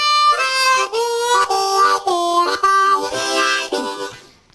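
A harmonica blown too hard gives a rough, harsh tone, playing a run of loud, buzzy sustained notes and chords that shift in pitch and then fade out at the end.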